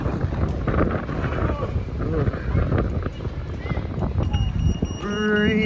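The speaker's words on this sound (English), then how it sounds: "It's windy now." Wind buffets the microphone with a steady rumbling roar at an amateur 9-ball pool match, and a voice speaks briefly over it.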